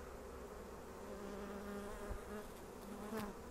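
Honey bees around a backyard hive in December make a continuous faint buzzing hum, with several insects droning close by at a steady low level and no voices.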